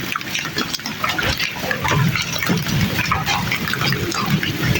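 Large hailstones pelt down into standing water during a first summer storm, a dense, close splashing and pattering that runs without a break and swells slightly in the middle.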